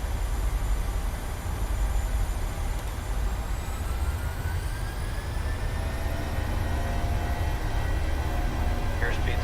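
Airliner engines spool to takeoff thrust in Microsoft Flight Simulator, likely an Airbus A320 or Boeing 737: a loud, steady low roar with a rising whine held throughout, with no talk over it.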